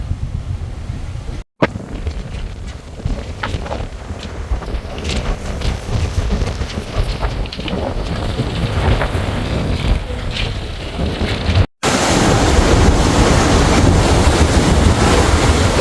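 Rough sea crashes and splashes against a sailboat pitching through squally, wavy weather, with loud constant wind buffeting the microphone and surging water, close and unbroken apart from two brief cuts.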